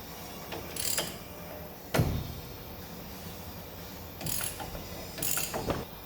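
Ratcheting wrench with a 21 mm socket breaking loose and turning the front brake caliper bracket bolts on a 2005 Chevy Silverado 1500HD, rusty and scaly, with several short bursts of ratchet clicks and a sharp metallic knock, close by.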